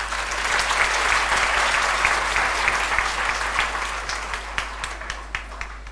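Loud, dense applause from a large audience at a Gayatri Jayanti celebration at Shantikunj, a steady roar of many hands clapping that gradually thins toward the end.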